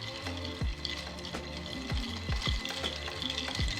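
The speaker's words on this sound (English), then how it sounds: "But stir it to the point of your satisfaction" A White Russian being stirred with ice to chill it: repeated rhythmic clinks and scrapes of ice against the glass, close and fairly loud, with a steady swirling background and no talking.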